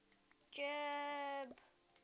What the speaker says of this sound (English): sheep spawn